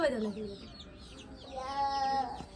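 A laying hen clucks close by in a few drawn-out, rising and falling calls over a short stretch, with a voice talking underneath.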